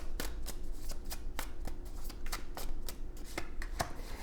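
Tarot cards are shuffled close by in a steady run of soft, crisp riffling flicks, quiet and without talk.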